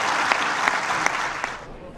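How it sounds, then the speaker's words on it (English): A round of applause fills the UN Security Council chamber after Resolution 2334 passes, steady broadband clapping from a room of delegates with a few sharper claps standing out, fading slightly toward the end. "to an unusual round of applause, Resolution 2334 was passed"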